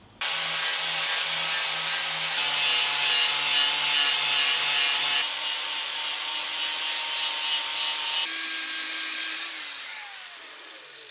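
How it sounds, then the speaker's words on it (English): A continuous abrasive whirring and rasping of a power tool grinding and sanding the faces of a steel racing axe head, loud and sustained, its pitch shifting a few times as pressure changes. "now I'm going to start grinding, sanding and polishing the faces."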